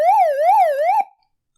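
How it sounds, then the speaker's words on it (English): Siren mode of a Raddy RF886 shortwave radio with its speaker covered: a loud wailing electronic tone rising and falling in smooth sweeps for about a second, then abruptly cut off into silence. "I haven't tried the siren yet, so I'm going to cover the speaker."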